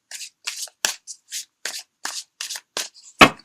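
Tarot cards are shuffled by hand in a series of short, separate riffling bursts, about ten quick rustles spaced evenly and heard up close in a quiet room, the final one the loudest.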